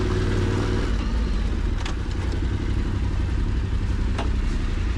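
A Yamaha T7 adventure motorcycle rides off-road, its engine droning steadily and loud throughout with a few brief clattering knocks from the rough trail.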